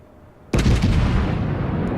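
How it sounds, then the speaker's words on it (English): A battleship's main-gun salvo in World of Warships fires in one loud, sudden boom. A heavy rumbling roar follows and sustains to the end with no talk. "a salvo where my turrets don't seem to get to be turned"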